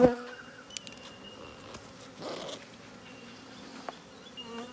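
Honeybees buzz steadily at close range as a super is lifted off a beehive, with a low continuous hum, occasional sharper passes of individual bees, and a few light knocks of hive parts.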